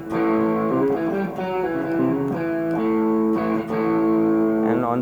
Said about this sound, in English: And a little crunch. The drive sounds like this.